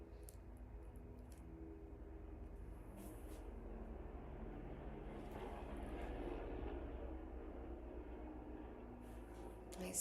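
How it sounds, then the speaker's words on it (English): Helicopters flying outside a home, a steady low droning rumble held at moderate level through the whole stretch, distant rather than close, with no talk over it. "Man, these helicopters are relentless lately."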